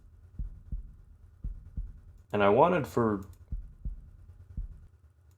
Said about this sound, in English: But you still have that unsettlingly realistic heartbeat sound.